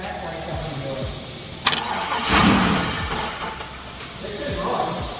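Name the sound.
van engine cranking, attempted start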